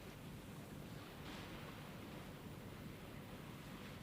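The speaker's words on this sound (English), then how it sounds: "Listen to the sea." Sea waves wash steadily against a beach, a continuous broadband rush with a brief swell partway through, heard alone with no voices.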